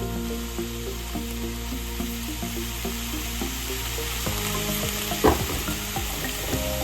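Onion and tomato with salt sauté in a pan for a spicy onion-tomato chutney, giving a steady, close sizzle throughout. Spoon stirs knock now and then, and one sharper scrape lands near the end.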